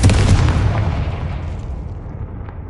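A Confringo blasting spell explodes in a video game, a loud booming blast at the start that rumbles and fades away over a few seconds, with no voices.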